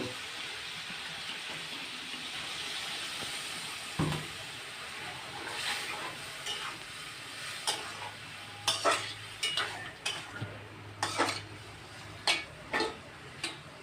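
Hot pan of dried fish curry with water added, a low steady simmering hiss broken by a sharp splash, then a run of clinking, clattering stirs against the pot.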